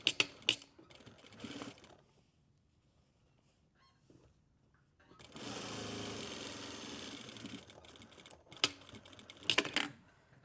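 A sewing machine runs an edge stitch along a flap and spade pocket in a short, steady burst. Scattered handling clicks and taps come before and after, with no talking.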